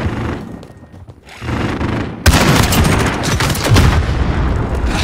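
Gunfire and a rocket launcher in a survival-mode video game, with bursts of shots, then a sudden loud boom followed by sustained, dense, booming fire.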